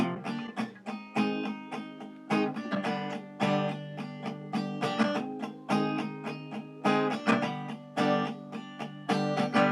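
Guitar strumming the intro of a song, steady rhythmic chord strokes with brief muted accents between changes, close and clear with no voices.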